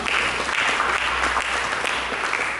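A church congregation breaks into full, dense applause during a sermon, a loud, continuous wash of clapping with low background hum beneath, no voices standing out.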